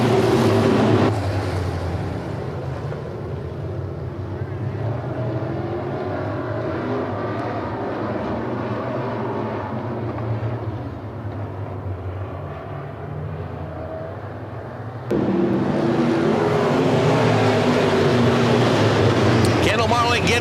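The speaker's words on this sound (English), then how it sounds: "Field comes up to speed, and we are green flag racing." A field of stock cars roars around an oval track as the green flag drops, a dense sustained engine drone that dips slightly then surges louder, with an announcer talking over it.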